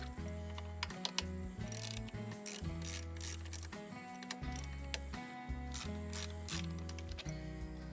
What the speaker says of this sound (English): Swap out the hex wrench or socket and loosen the 3 machine head bolts that hold on the bracket